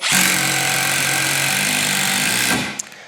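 A Milwaukee M12 power tool set to speed level 3 runs at full speed, a loud, steady high-pitched motor whine held close for about two and a half seconds before cutting off abruptly.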